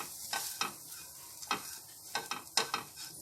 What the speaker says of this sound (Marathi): मसाले घालून मी व्यवस्थित परतून घेणार आहे म्हणजे मसाले आपले छान भाजले जातील।